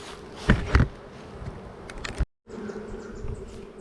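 Honey bees buzz steadily around stacked hive boxes as a super is added, a dense close drone with a few louder passes near the listener and a brief dropout partway through.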